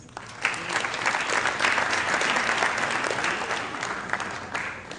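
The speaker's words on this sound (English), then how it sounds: "I think we need to give them a round of applause." Audience applause at a Marketers Association Zimbabwe event, a dense sustained crowd clapping at steady loudness throughout, fairly close and filling the room.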